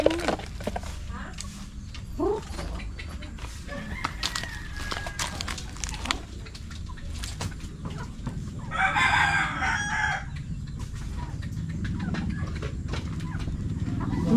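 Chickens cluck and a rooster crows in a rural yard, with calls scattered across the scene and one louder crow near the middle, all under ongoing conversation.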